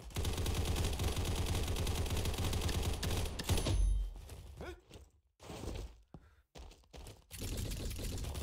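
Rapid gunfire from the video game Combat Master, with dense bursts of shots for several seconds, then the action breaks into choppy gaps and short bursts before steady firing resumes.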